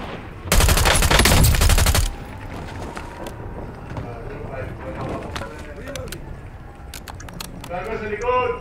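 Loud burst of rapid gunfire from a shooter video game with a sniper in play rattles for about a second and a half, then gives way to quieter in-game clatter and scattered sharp effects while voices talk.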